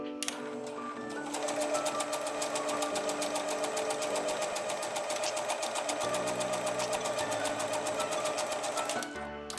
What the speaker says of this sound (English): Turn on the sewing machine. Choose buttonhole stitch.